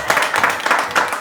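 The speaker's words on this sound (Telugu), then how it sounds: "గట్టిగా క్లాప్స్ కొట్టండి అమ్మా" Crowd clapping at a children's drawing competition prize ceremony, a brief dense patter of hands heard close, with murmuring voices mixed in.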